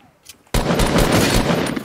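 Rapid automatic gunfire from a Fortnite match bursts in loudly after a short near-silence and keeps rattling continuously to the end.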